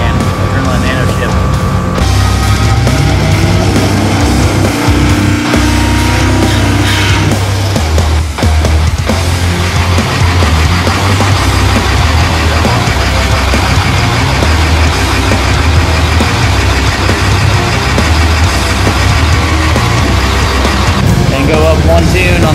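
A race truck engine running loud and steady with a deep low rumble and idle vibration throughout, revving slightly in places, close to the microphone with no voices.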